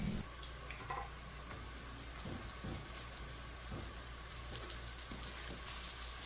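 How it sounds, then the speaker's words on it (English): Chicken burger patties fry in a pan with a faint, steady sizzle and scattered soft pops and crackles, quiet and without any talking. "While the patties are frying"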